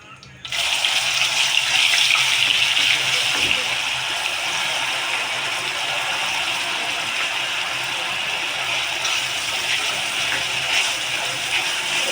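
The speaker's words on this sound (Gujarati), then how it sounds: "હવે આપણે નાખીશું ડુંગળીની પેસ્ટ." Onion paste sizzles and fries in a pan while soya chunk curry is being cooked, a steady loud hiss starting abruptly and continuing throughout, with a brief clatter early on and a voice speaking.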